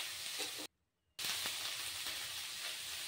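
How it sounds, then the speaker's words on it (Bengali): Potatoes and winter vegetables sizzle steadily in oil left from frying dried fish while being stirred and mixed, a close, continuous frying hiss broken by one brief silent gap. "আলুটাকে একটু সময় ভেজে নিয়ে এর মধ্যে বাকি সবজিগুলি দিয়ে দিলাম। সবজিগুলি দিয়ে একটু মিশিয়ে নিচ্ছি।"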